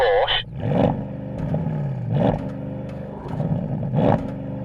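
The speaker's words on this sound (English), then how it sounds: "Let's have a listen to the" A Porsche Panamera GT engine revs repeatedly toward its soft limiter, rising in three distinct surges with a bouncing, clattery tone between pulls, close and fairly loud.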